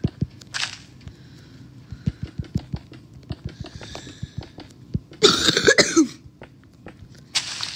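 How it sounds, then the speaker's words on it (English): A person still recovering from an illness coughs several times, with short, harsh bursts close to the microphone, one longer fit in the middle, over a quiet background of repeated sharp clicks. "I still have a cough."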